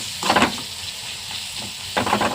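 Tomatoes frying in a pan with salt and chili powder, a soft steady sizzle with two louder bursts of stirring near the start and end.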